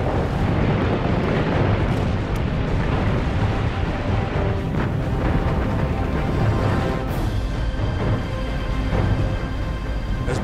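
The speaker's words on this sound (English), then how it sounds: "11 out of their 18 bombs hit their mark." Bombs strike the battleship Musashi in a wartime naval air attack, a dense, continuous roar of explosions and rumbling blasts, loud and close, with a few sharper bursts rising out of the din.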